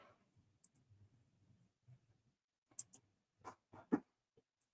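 Several quiet, sharp computer mouse clicks sound close up, sparse at first and then grouped in a quick cluster near the end, against a faint low background rumble.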